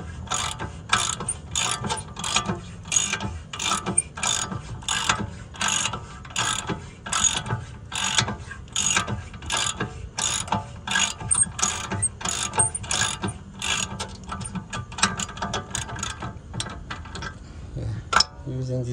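Ratchet fitted with a 17mm socket working a bolt on a car's upper control arm, a close, continuous run of rapid rhythmic clicking bursts from repeated back-and-forth strokes.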